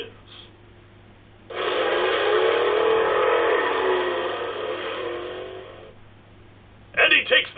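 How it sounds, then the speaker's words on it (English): Electronic race car engine effect from a Hot Wheels alarm clock radio: a loud, steady, whining engine tone rises in, holds for about four seconds and cuts off, followed by a short voice burst near the end. "Gentlemen, start your engines."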